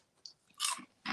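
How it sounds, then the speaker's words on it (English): Crispy Pringles-style potato chips crunch loudly and up close, with two or three sharp bites in quick succession separated by brief quiet, and no talking. "Very crunchy. Yes. Here's your ASMR."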